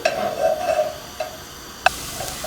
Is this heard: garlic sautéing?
yes